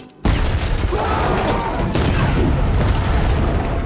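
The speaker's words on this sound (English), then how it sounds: "A huge mushroom cloud swallowed the wooden house." A huge explosion tears apart a wooden house, bursting in suddenly as a loud, deep boom that rolls on as a sustained roar of blast and debris.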